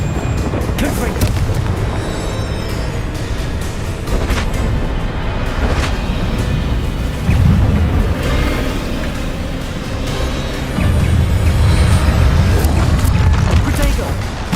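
Confringo fire-blast spell explosions in the Hogwarts Legacy video game, repeated booming blasts and crackling bursts over dense combat noise, with a voice talking throughout.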